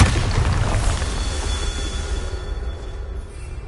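A Bombarda spell goes off in Hogwarts Legacy as a loud, close blast that rumbles at first and then trails off into a fading, decaying roar.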